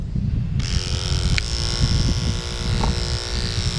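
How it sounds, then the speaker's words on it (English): An electric clipper switches on and hums steadily at close range while fur is trimmed from a dog's paw, a continuous buzzing drone with faint handling noise and a low rumble underneath. "then you turn the clipper around and scoop in here"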